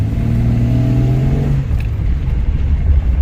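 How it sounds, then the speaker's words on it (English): A Subaru WRX engine revs in short, gentle bursts for about a second and a half, then settles back to a steady, loud rumble close by, with no voices. "Let's see if we can just, you know, squeeze out a couple little revs"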